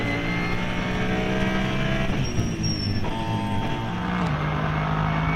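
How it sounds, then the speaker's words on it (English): Race car at the Nürburgring heard mid-race: a loud, sustained engine note with gear and pitch shifts as it brakes and downshifts into a chicane, with no talk. "Verstappen continues on the Grand Prix circuit as he slams the brakes into the chicane."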